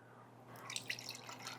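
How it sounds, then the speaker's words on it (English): Milk sloshed and swirled inside an emptied can while preparing a pork chop and rice casserole: a brief, soft, close liquid slosh with small splashy drips, quiet and with no talking. "I'm going to slosh that around just so we can get some of that excess out of the can."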